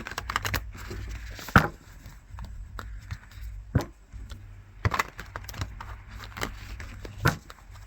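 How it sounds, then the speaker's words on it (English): Oracle cards being shuffled by hand, producing soft irregular riffling and tapping with sharp card snaps scattered across several seconds, close and fairly quiet with no talking. "Shuffle, shuffle."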